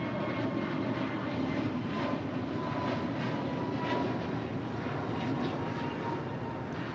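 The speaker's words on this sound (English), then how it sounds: "That was American Airlines flight 2543 heading to Dallas, Fort Worth, Texas, and an A321neo" An American Airlines Airbus A321neo jet at Los Angeles International Airport passes with a sustained engine roar, moderately loud and even throughout.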